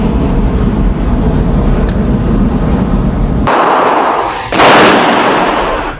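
Two sharp, loud gunshots about a second apart come from a 1911 pistol being zeroed at a shooting range, each crack standing out over a constant roar of background noise.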